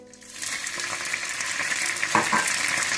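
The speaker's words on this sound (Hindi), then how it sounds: "सबसे पहले आप मक्खन गरम कर लें।" Steady sizzling of butter heating in a pan, a continuous bright crackle that holds at an even level throughout with no talking.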